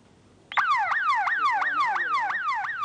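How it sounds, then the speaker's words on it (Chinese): Automatic alarm on a sea-going fish-farming water tank sounds abruptly after a quiet start, a loud, near electronic wail sweeping downward in rapid repeating cycles that continue steadily without pause. "水一旦缺氧，温度过高，警报就自动响起"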